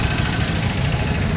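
A tractor engine idles steadily and close by, a continuous low rumble with constant vibration, no talking over it.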